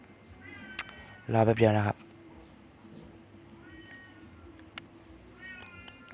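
A cat lets out a loud meow, close by, amid a low hum and someone speaking softly.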